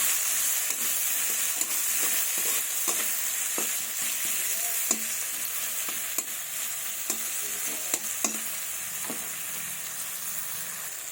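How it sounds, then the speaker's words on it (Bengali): Chopped onion with a little salt lightly frying in oil in a pan, giving a steady bright sizzle with scattered soft spatula taps and scrapes, no one talking. "পেঁয়াজটাকে একটু হালকা ভেজে নেব।"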